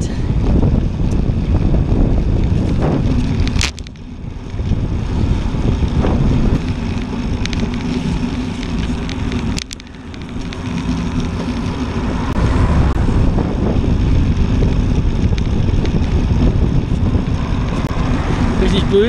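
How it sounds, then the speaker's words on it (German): Strong gusty wind buffets the microphone while cycling along a river bike path, a loud continuous roar that dips briefly and swells again. "Richtig böig der Wind heute"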